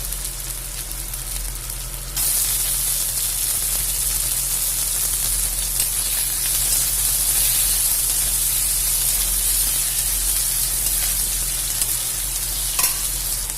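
Chopped tomato hitting hot oil in a pan for a cauliflower, new potato and fish curry, with a loud, steady sizzle that jumps up suddenly and then holds as a broad hiss, with some stirring.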